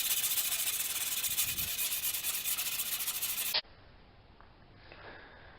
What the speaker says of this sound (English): now I've got to sand these edges. Typically I'll just take a piece of 80 grit sandpaper